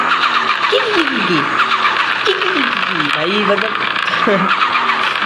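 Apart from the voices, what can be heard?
Toyota Vigo turbo engine noise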